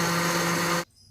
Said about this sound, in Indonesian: Lagi proses blender nih teman-teman.